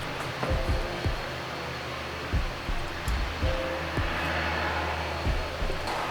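A V8 engine swapped into a Nissan S14 cranks too slowly to start, giving a labored, uneven churning with rhythmic low thumps close by and no speech.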